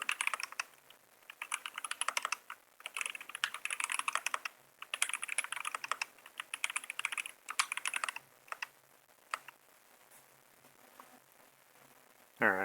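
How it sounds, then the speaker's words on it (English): Fast typing on a computer keyboard during a 1v1 typing game: dense, rapid clatters of keys in bursts with short pauses, close and clear, trailing off near the end. "Just going to type while we wait to lose."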